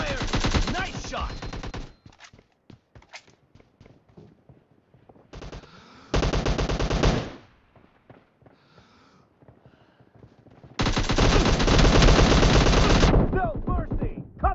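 Rapid automatic gunfire in a PUBG team deathmatch, heard in loud sustained bursts separated by quieter stretches of scattered shots, footsteps and game sounds.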